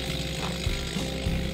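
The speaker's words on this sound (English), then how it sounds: "And Steve started working with the chainsaw to start getting some knees freed from the stumps." A chainsaw cuts into felled white oak stumps to free the curved knees for wooden boat timbers, giving a steady, loud, close-up mechanical roar with slight dips in pitch as the blade bites.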